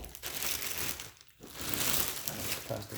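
Plastic wrapping crinkles and rustles steadily as a pair of brown python western boots is pulled out of its packaging, close and fairly loud with brief pauses in the handling.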